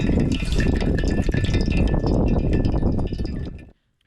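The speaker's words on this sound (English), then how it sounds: "let's go ahead and pour my coffee" Water pours steadily over coffee grounds in a pour-over brewer from a pocket-sized brew kit, a loud close splashing trickle that stops abruptly near the end.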